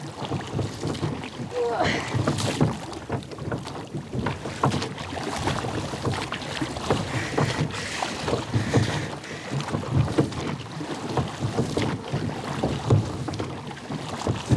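Steady wind buffets the microphone, a constant rushing roar with water and paddling sounds underneath in a strong current off a Scottish isle, heavy and continuous throughout.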